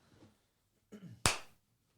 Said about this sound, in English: That was a good clap, yeah, a little golf clap.